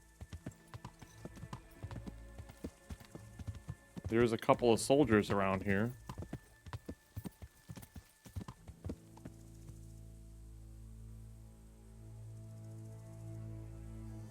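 Rapid hoof clip-clops of a horse in Kingdom Come: Deliverance, loud for about two seconds, with someone talking over them and game ambience before and after.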